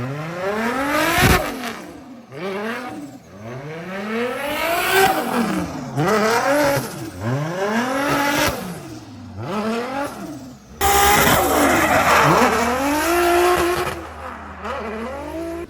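Formula Drift race car at a New Jersey track, engine revving hard in repeated rising and falling sweeps with tire squeal, loud and continuous through the whole stretch, no talking.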